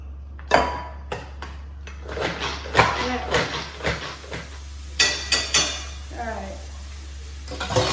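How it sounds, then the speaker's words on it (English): Onion being stirred in a pan with a utensil, giving a series of scattered clinks and scrapes against the metal over a steady low hum, with a short sizzle near the end. "Now let me just stir the onion."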